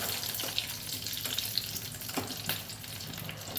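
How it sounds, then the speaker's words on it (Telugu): Four green chillies sizzling in a hot pan, a dense close crackle with a few sharp pops and light stirring, with no voices. "పచ్చిమిరకాయలు వేస్తున్నాను, 4 పచ్చిమిరకాయలు వేడి చేస్తున్నాను."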